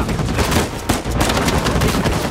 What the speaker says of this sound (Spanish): Más disparos.